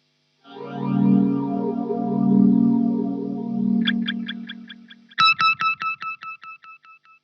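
An electric guitar plays the verse riff through a Boss RV3 delay and Boss PH2 Super Phaser, sustained notes with a swirling phaser sweep, then sharp repeated plucks trailing off in fading delay echoes.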